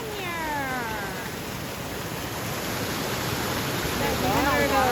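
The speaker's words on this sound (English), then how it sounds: "There's a waterfall right here on the side of the mountain." Steady rushing water from a waterfall on a mountainside in the Great Smoky Mountains, a continuous broadband roar heard throughout, with brief high-pitched cat-like cries near the start and end.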